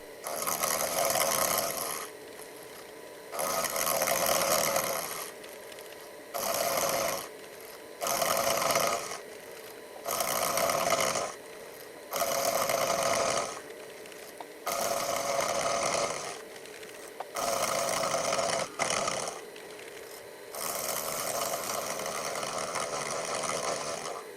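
A 7x12 mini lathe (CJ0618) machining a metal headstock part, running in repeated loud, steady whirring passes of a few seconds each, separated by brief quiet gaps, close and alone without talking.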